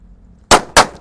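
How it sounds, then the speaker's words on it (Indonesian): Two sharp, loud bangs from paper-wrapped firecrackers lit together go off in quick succession about a quarter second apart, close by, after a quiet moment. "mercon buntelan kertas dari mercon corsair. Ini saya buntel, kita nyalakan dua sekaligus ya"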